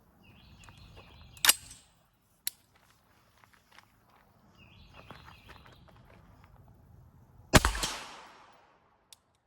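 Two suppressed shots from an 11.5-inch rifle fitted with a Geissele H3 buffer, fired outdoors at about 40 yards, come as sharp separate cracks several seconds apart, with scattered footsteps and rustling between.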